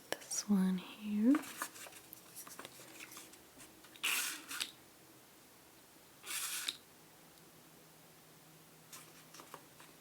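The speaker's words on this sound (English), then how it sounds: "let's spray this one here." A 90s perfume bottle gives two short, close atomizer spritzes a couple of seconds apart, each a brief airy hiss, after soft whispering in a quiet room.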